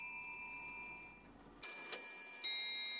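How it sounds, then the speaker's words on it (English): A clock made for Louis XIV in the Palace of Versailles gives a few sharp ticks with a ringing metallic tone over a quiet background. "Visitors can hear time ticking away exactly as the Sun King did 3 centuries ago."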